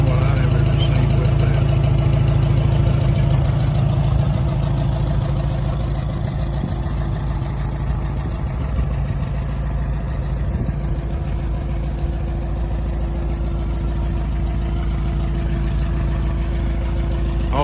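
An International 404 tractor engine idles steadily and loudly up close, a continuous low rumble that holds even throughout with no revving.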